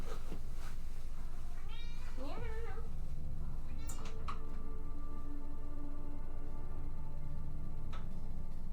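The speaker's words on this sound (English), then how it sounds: "Meow." A cat in the game Vampire: The Masquerade – Swansong gives one wavering meow, followed by a few sharp ticks and a faint steady tone over a low background hum.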